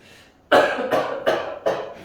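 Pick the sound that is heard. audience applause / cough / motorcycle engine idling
cough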